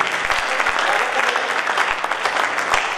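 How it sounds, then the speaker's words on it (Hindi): Dense, steady audience applause fills a comic poetry gathering (kavi sammelan) held by a Vaishya community association in Karnal, with sharp clap transients running continuously for about three seconds and no voices over it. "एक बार मुझे अपने हाथों की तालियों की करना"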